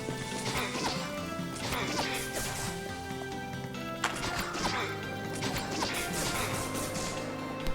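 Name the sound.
glass cracking noise in a video game boss fight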